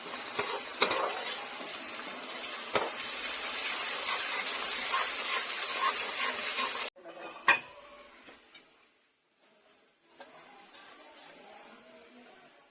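Ginger-garlic paste and green chillies fry in a pan for a dhaba-style bhindi masala, giving a loud, steady sizzle with spoon scrapes. The sizzle drops abruptly partway through, leaving quieter intermittent stirring clinks and soft frying.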